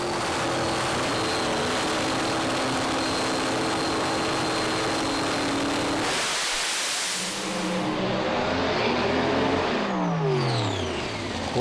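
Drag racing cars launch off the line on a very hot track, a loud broadband engine roar that drops away around the midpoint before another engine sweeps past, no talk heard.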